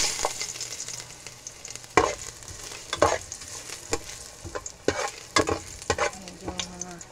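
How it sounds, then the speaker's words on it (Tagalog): Ginger sautéing in a pan as the base for a Filipino mung bean stew, a steady low sizzle broken by sharp stirring scrapes and clatters of the utensil at irregular intervals, close and moderately loud with no talking. "mag-gisa na tayo. Inang-una ko yung luya."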